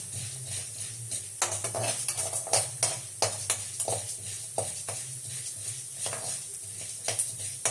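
Chana dal and urad dal sautéing in a pan, with repeated sharp clinks and scrapes of a metal spoon stirring against the pan over a soft, low sizzle.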